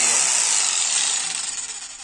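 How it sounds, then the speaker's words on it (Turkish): A Bosch PST 650 jigsaw buzzes steadily through a wooden board, a close, high-pitched rasping whine that wavers slightly as the cut continues. "dekopaj testeresinin bir tanesini taktık bu tahtayı kesmek için"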